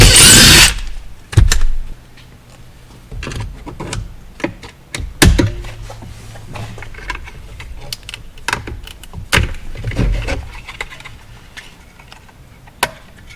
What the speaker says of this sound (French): On vient dévisser le speaker.